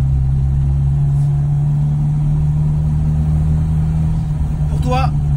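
An old car's engine hums steadily while driving on the road, a constant low drone with a brief rising whine near the end.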